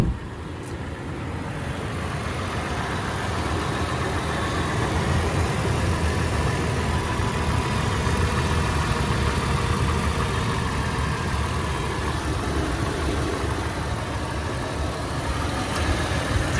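A 2011 Toyota 4Runner engine idles steadily and evenly for the whole stretch, a continuous low rumble heard up close with no talking.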